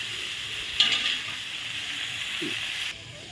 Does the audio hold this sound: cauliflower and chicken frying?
yes